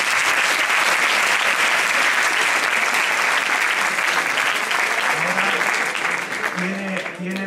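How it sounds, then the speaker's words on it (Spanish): An audience at a school philosophy debate final breaks into sustained, loud applause, a dense wash of clapping that carries on without a break and fades slightly near the end, with a few voices faintly audible under it. "un aplauso para..."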